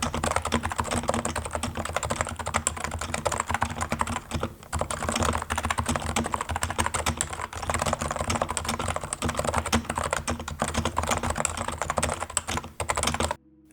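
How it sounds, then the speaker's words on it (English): Fast, continuous typing on a Realforce keyboard with Topre switches, a dense stream of soft, muted thocking keystrokes close up with only brief pauses. "Topre is not inherently that loud compared to the vast majority of mechanical switches, but it does give this a unique sound signature."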